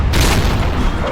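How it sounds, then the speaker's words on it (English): Naval battle cannon fire in the game Empire: Total War, a dense, continuous rumbling barrage of booming shots blending into one loud roar with no talking. "There's a lot of cannon fire happening right now."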